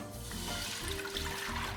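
Water poured into a cooking pot for a vegetable dish: a faint, brief splashing trickle with a rising pitch as the pot fills, heard alone.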